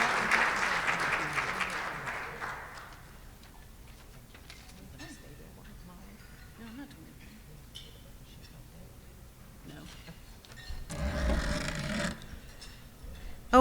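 Rotary meeting attendees clap for a newly inducted member: a burst of applause at the start fades within a few seconds into quiet room sound with faint ticks, then a short second round of clapping rises near the end.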